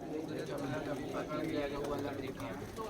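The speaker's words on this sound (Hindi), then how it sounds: "दोबाज है, ये टाइप में है, काफ़ी बढ़िया कबूतर।" Soft cooing of Dobaaz breed pigeons at a pigeon keeper's loft in Allahabad, a low murmuring that runs steadily through the clip while people talk nearby.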